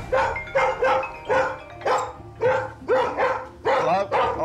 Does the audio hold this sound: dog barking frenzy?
yes